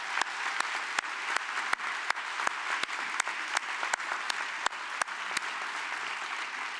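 Audience applause at a convening, fairly soft and distant, with a dense wash of many hands clapping and a few sharper individual claps standing out at a steady pace.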